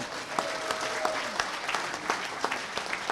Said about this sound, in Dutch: Ook hier mag een applaus op volgen.